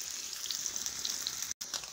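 Food sizzles and crackles in a hot pan of oil with a steady, fairly quiet hiss. One brief dropout breaks the sound near the end.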